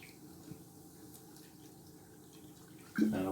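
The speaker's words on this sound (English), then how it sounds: "Some cider going in." After near silence, cider suddenly splashes and pours steadily into a roasting pan for roast pork shoulder, close by.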